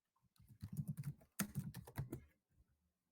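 A few soft clicks and taps on a computer keyboard, Esc or Enter pressed while coding in Rust, heard close and faint with no voices.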